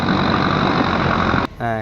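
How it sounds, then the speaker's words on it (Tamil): A tractor engine hauls a fishing boat up the beach at Chavakkad in Kerala, a loud, steady rumble mixed with broadband wind-like roar that cuts off abruptly near the end, replaced by a quieter tonal hum. "டிராக்டர் எப்படி வச்சு இழுக்கிறாங்க பாருங்கள்"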